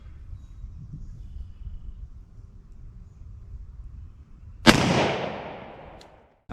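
A single loud gunshot from a .410 revolver firing a heavy Underwood 45 Colt load at a ballistic target 10 yards away, a sharp blast with a ringing tail after quiet outdoor ambience.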